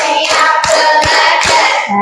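A grade 8 science class in Indonesia claps along in a counted clap routine: a string of loud, close hand claps in steady rhythm, with brief tonal voices blending in.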